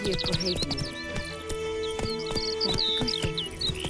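Geralt's horse Roach gallops in The Witcher 3: Wild Hunt, hooves pounding in a quick steady rhythm under game music, with birdsong chirping in the background.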